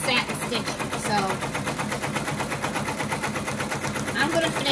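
An embroidery machine runs tack-down satin stitching on a hat, its needle hammering in a fast, steady rapid-fire rhythm up close while a person talks over it.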